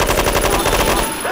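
Rapid automatic gunfire in the video game Left 4 Dead 2, a loud, close burst of evenly spaced shots lasting about a second before cutting off.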